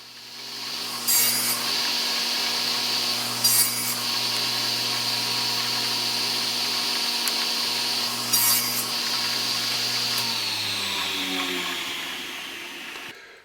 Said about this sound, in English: set myself a stop here, and chopped up some scrap